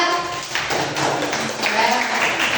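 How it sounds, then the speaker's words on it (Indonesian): A classroom of students applauds group A with a short burst of clapping, fairly close, while voices talk over it. "Tepuk tangan untuk kelompok A."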